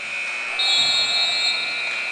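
A basketball game horn sounds during a high school tournament matchup between deToledo and Rochelle Zell, a sustained tonal blare heard over crowd noise in a gym, swelling louder midway and lasting through the moment.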